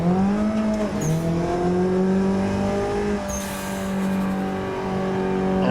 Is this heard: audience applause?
no